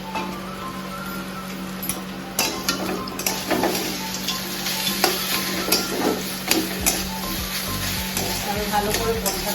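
Peanuts and vegetables are stirred and sautéed in a pan for vegetable chop, giving a steady close sizzle with repeated spatula scrapes and clinks over a constant low hum.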